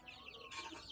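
A chicken clucks briefly at close range while being fed, a short quiet burst of fowl calls with no talk.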